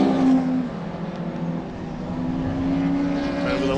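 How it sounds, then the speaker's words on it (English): Race cars at Donington Park, a Ford Focus and BMW Minis among them, cross the line with a steady, loud engine roar and rising drone as they pass, with no talk over it. "Over the line they go, passing the Focus of number 5, David Jones."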